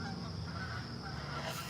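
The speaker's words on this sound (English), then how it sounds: "Do you hear the geese?" Geese honking at a distance, a faint, steady chorus of calls over a low background rumble.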